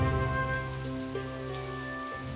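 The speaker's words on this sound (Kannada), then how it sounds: "ಮಳೆ ಬೇರೆ ಬರ್ತಿದೆ" Cartoon-style rain falls in a steady, even patter, a continuous close sound effect with a faint tonal hum underneath.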